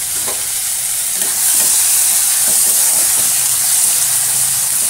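Small batch of vegetable curry with tomato and chillies cooking in a pan, giving a loud, constant close-up sizzle and hiss with occasional stirring scrapes, no voices.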